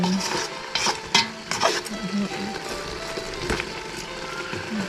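Pork stir-fried in a pan, a steady sizzle under scraping and clinking of a utensil against the pan, close and moderately quiet, with no clear talking.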